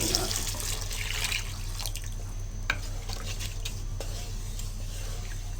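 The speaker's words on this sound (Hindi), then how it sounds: "अब आप इसमें पानी भी डाल दें।" Water poured into a pan of chickpea curry during cooking, a steady splashing pour with trickling and dripping over a constant low kitchen hum, close and moderately quiet.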